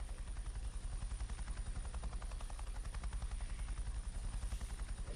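Helicopter in a flight simulator video game played with an Oculus Rift headset: a steady, loud rotor thump with rapid regular chopping beats over a continuous engine drone, unbroken throughout.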